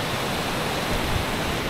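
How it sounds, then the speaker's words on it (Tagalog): Heavy rain pours down with strong surf at Laki Beach in Mariveles, Bataan, during the rainy season, forming a dense, steady roar of wash with no voices. "Ang lakas ng ulan, yung alon, ang lakas, oh."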